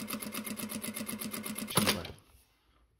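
A sewing machine stitches along a fabric edge with the presser foot as the guide, running in a fast steady mechanical rhythm for nearly two seconds and then stopping with a brief clunk, close and fairly quiet.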